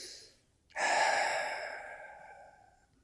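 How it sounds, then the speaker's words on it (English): A single deep breath drawn in during a calm stress-relief tapping session, one close, soft inhalation that swells and slowly fades, with no talking. "Take a deep breath."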